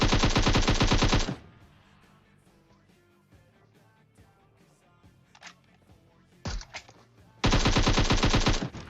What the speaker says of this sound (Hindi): तो मैं नेड करता हूं और फिर गोलियां चलाता हूं।